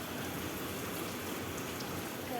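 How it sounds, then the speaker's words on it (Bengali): Rain falls steadily outside in a dense, even hiss that stays soft and constant throughout, with no voices. "বাইরে খুব বৃষ্টি পড়ছে সত্যি।"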